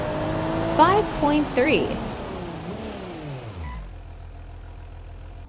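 A BMW E36 in the BeamNG.drive driving game revs and accelerates in a steady engine drone that rises in pitch, then cuts to a low idle hum, with a voice speaking over the start.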